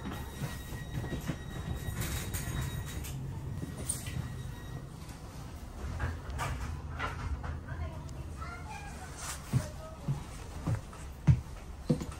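A Trenitalia Frecciarossa train runs between Milano Centrale and Lake Como, giving a continuous rumble of rolling wheels and carriage noise with occasional squeals and a few sharper knocks near the end, while voices speak over it.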